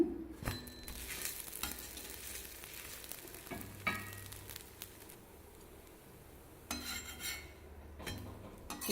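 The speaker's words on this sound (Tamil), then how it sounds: "தோசையை திருப்பி போட்டுக்கலாங்க" A white sorghum dosa sizzling in oil on a pan as it is flipped, a soft continuous frying hiss broken by sharp scraping and clacking of the spatula against the pan, close up with no talking.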